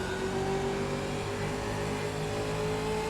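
Race cars accelerate off a green flag start at the Nürburgring Combined circuit in a racing video game, engines droning steadily and loud with rising pitch throughout, no voices.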